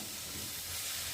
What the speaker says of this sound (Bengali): আলু পেঁপের সাথে মশলাটা ভালো করে একটু ভেজে নেব